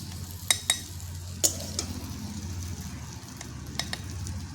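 Eggplant fries in a hot pan while a utensil stirs it, a close, steady sizzle broken by several sharp clicks of the spoon against the pan.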